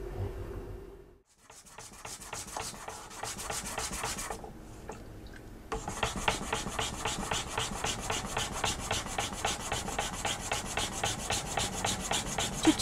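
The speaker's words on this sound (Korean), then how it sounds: "숫돌로 갈고 손가락으로 확인해 가면서 전체가 같은 두께가" A piece of mother-of-pearl shell is ground on a whetstone in Ryukyuan lacquerware inlay work, making a steady, close, gritty rubbing with a rhythmic back-and-forth scrape that grows louder and more regular after a short pause.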